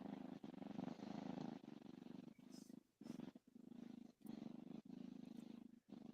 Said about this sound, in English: I just heard the purring